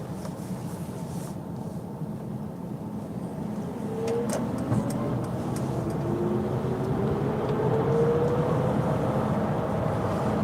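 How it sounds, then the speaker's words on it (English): A car drives past outdoors on a street, its broadband road and tyre noise slowly swelling louder over the second half, with a faint rising whine sweeping through; no talk is heard. "There's a car coming."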